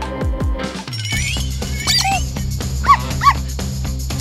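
A dog in a lively, music-filled scene gives a few short barks early on, then thin high whimpers and yips rise above the steady background, two brief whines standing out near the end.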